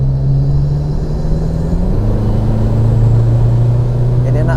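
A Toyota Hilux engine revs on an eastern Indonesian road, a loud, steady drone whose pitch drops once and then holds low. The engine note continues under a voice talking.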